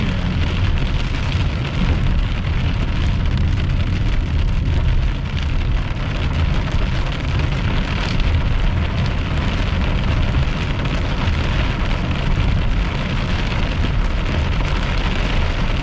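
Steady light rain patters continuously on a surface, a dense, even hiss that holds without pause throughout.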